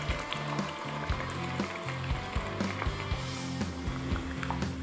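Pork for Bicol Express sizzling in a pan of oil and coconut milk as it cooks down, a steady close crackle with occasional stirring clinks and no voices.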